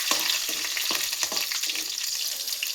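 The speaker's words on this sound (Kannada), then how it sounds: "ಉದ್ದಿನಬೇಳೆ ಮತ್ತು ಕಡಲೆಬೇಳೆ ಸ್ವಲ್ಪ ಕೆಂಪಾಗಬೇಕು, ಅಲ್ಲಿವರೆಗೂ ಇದನ್ನು ಎಣ್ಣೆಲೆ ಚೆನ್ನಾಗಿ ಫ್ರೈ ಮಾಡ್ಕೊಳ್ಳಿ" Urad dal and chana dal with mustard seeds fry in hot oil in a pan, giving a soft, constant sizzle broken by a few sharp stirring scrapes and pops in a quiet kitchen.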